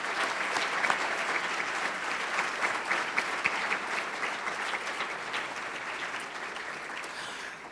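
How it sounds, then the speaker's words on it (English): Sustained audience applause at a 2019 scholarships and award banquet, a dense, even patter of many hands clapping for several seconds with no talk over it. "Let's give them a round of applause."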